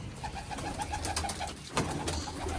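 Pigeons coo softly in a repeating, rhythmic series of low, throaty calls, fairly close, with a faint background hum.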